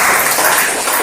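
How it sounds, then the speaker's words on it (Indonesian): Classroom applause from a group of students fills the whole short moment, a dense, steady wash of many hands clapping together at close range with no talk over it. "Tepuk tangan untuk kalian semuanya."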